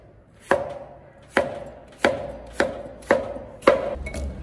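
Six sharp, evenly spaced knife chops on a cutting board as a smashed cucumber is cut into short pieces, close and crisp with brief ringing decays and quiet gaps between strokes.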